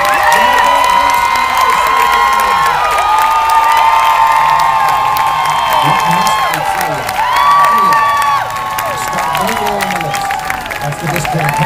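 A huge crowd roars after Obama's acceptance speech, a loud, sustained wall of cheering with whoops and shouts rising and dipping throughout.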